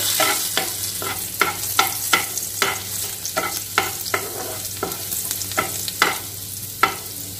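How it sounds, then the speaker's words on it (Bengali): Garlic frying lightly in a pan for lemon garlic chicken: a low constant sizzle under a regular series of spatula scrapes and taps, roughly two per second, close and clear, with no talking. "ফার্স্ট আমি দেব গার্লিক। লাল করে ভাজবো না, সামান্য একটু ভাজবো।"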